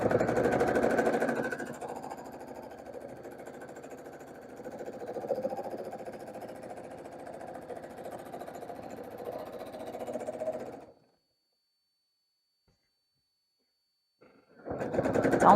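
A home sewing machine stitches free motion quilting with a steady, close motor hum and rapid needle chatter that runs for about ten seconds, stops briefly in silence, then starts again.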